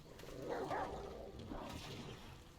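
Dog barking in the video game Remnant: From the Ashes, a couple of short mid-level barks amid steady game ambience and background noise, with no talk over it.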